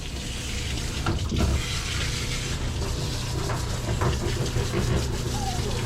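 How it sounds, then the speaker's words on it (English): Steady running water rinses soap off, a continuous rushing flow close by that holds level throughout, with faint voices underneath. "We gotta rinse all the soap off."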